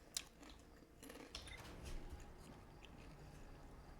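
Small crunchy crackers being chewed close to the mic, giving soft irregular crunches and bites over a low steady background hum.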